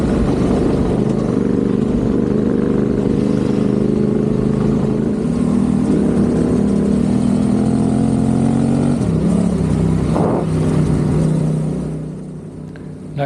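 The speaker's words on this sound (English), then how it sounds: "Let's just listen to the engines and enjoy the action." Loud, sustained engine roar of racing cars at high speed across a dried-up lake in Morocco's sand, a steady droning whine with shifting pitch, continuous and close throughout.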